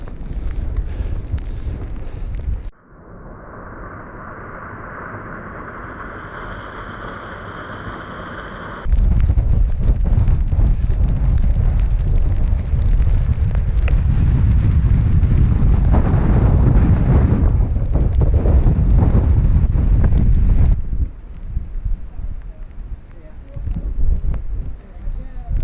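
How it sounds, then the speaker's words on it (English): Strong wind roars and buffets the microphone on the exposed summit of Whernside in the Yorkshire Dales on a rainy day, with a quieter stretch before a long, loud, sustained gusting blast. "So, top of Whernside, very windy"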